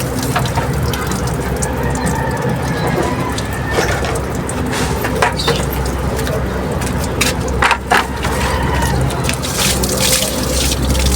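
Water splashes and gushes steadily while a pigeon cage is being washed, a continuous loud wash of pouring and splattering with occasional sharper drips and knocks, and brief talk beneath it.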